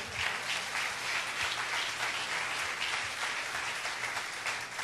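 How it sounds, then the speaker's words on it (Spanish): Church congregation applauding during a Spanish-language sermon, a steady wash of many hands clapping that fills the whole stretch evenly, with a low hum underneath and no distinct voices. "Den un aplauso al Señor"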